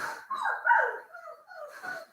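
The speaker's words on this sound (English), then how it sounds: "No, actually it's the dog, Mill." A dog gives a few short barks and yips at moderate distance, fairly quiet, in an indoor room during a live jewelry sale.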